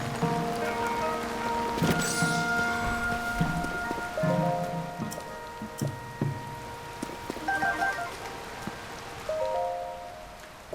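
Steady rain in the video game Zelda Tears of the Kingdom, a continuous patter of drops with a distant thunder rumble, layered under game music and interface chimes.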